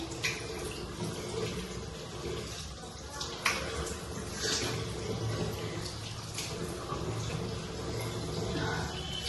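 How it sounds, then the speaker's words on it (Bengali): Water splashing and running steadily as a face is rinsed clean after scrubbing, a continuous wet wash with small splashes throughout. "আমার ফেসটা স্ক্রাব করা হয়ে গেল, ভালোভাবে ধুয়ে নিচ্ছি"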